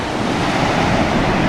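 Ocean surf at La Jolla in August rolls and washes steadily, a broad continuous roar of breaking waves mixed with wind buffeting the microphone, with no voices.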